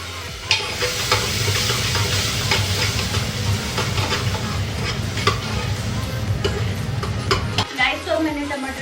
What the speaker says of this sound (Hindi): अभी टमाटर हमारा पक रहा है